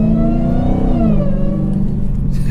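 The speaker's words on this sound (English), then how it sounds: "then that supercharger whine is just something else." A Dodge Hellcat V8 fitted with a Bwoody intake revs hard up close and loud, its supercharger whine rising over the engine roar before both fall back to a lower drone.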